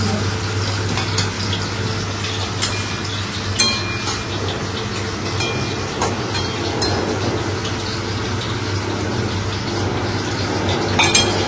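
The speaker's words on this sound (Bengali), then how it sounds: "তুমি তাহলে মাছগুলো ভাজো" Fish frying in a pan makes a continuous sizzle, with scattered sharp clinks and taps of utensils across it, at moderate loudness throughout.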